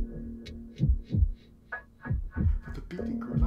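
Heartbeat sound effect in a gothic horror reading of The Tell-Tale Heart, a series of deep, muffled thumps in a slow repeating rhythm over a low hum, with no voice during the beats.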